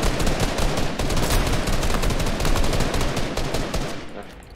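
Dense, continuous rapid-fire gunfire from an opposing trio in a video game rattles on without pause, loud and close, fading slightly at the very end.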